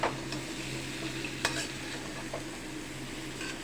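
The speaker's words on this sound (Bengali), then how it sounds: "প্রথমে আমি 5 ফোড়ন দিয়ে তেলের মধ্যে আমগুলোকে একটু নেড়ে নিচ্ছি ভালোভাবে" Mango pieces stirred in hot oil with five-spice in a mango pickle preparation, giving a steady close sizzle with a few light scraping stirs throughout, no talk.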